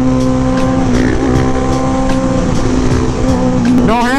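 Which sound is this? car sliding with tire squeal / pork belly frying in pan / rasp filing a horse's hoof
car sliding with tire squeal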